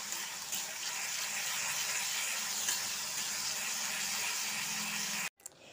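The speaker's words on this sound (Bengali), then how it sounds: "পেঁয়াজ বাটাটা দিয়ে বেশ কিছুক্ষণ ভেজে নিচ্ছি।" Onion paste frying in a pan for Hyderabadi chicken fry, a steady close hiss of sizzling oil that runs throughout and cuts off abruptly near the end.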